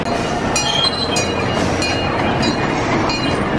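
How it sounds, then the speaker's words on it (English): A wooden roller coaster train rumbles past with a steady clattering roar and faint metallic squeals, loud and continuous throughout, at Quassy Amusement Park. "we are doing the wooden coaster one more time"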